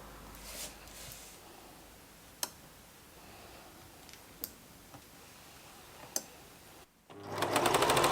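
A home sewing machine stitches a dress, its fine rapid mechanical ticking running steadily under faint room noise, broken by a few sharp clicks and ending with a louder burst of fast stitching.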